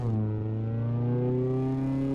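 A Honda S2000 engine mod in Euro Truck Simulator 2, heard from outside the car, giving a smooth, steady, close engine tone whose pitch climbs slightly as it revs, with no talk.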